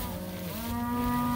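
Cattle moo, a long low bellow that rises and holds steady, loud and close, with farm ambience around it. The animals are fat beef cattle held in a farm lane near a paddock.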